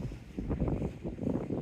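Wind gusting across a quiet seafront, a steady low rumble with buffeting on the microphone that swells and eases over the short stretch, with no voices.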